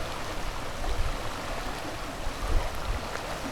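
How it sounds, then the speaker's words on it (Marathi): Steady broadband rush of a swollen stream in Konkan, loud and continuous, with no voices and a few slightly stronger surges. "पाणी बघा कसलं जबरदस्त येते"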